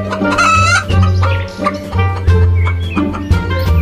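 A hen clucks loudly and close by in a quick run of short, choppy clucks with brief pauses between them.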